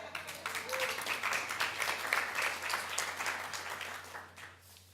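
Audience applause at a roundtable on antipoverty policy and juvenile justice reform, a dense burst of many hands clapping that swells, then fades away near the end, heard without talk over it.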